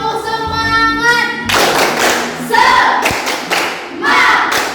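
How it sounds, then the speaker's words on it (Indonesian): A school class claps out a rhythmic spirit-clap pattern together, a loud burst of many hands in quick, patterned groups with a short pause between phrases, after brief sung or chanted tones at the start. "Sekarang yang pimpin ke kelas boleh pimpin tepuk semangat untuk teman-teman agar kita semangat ya."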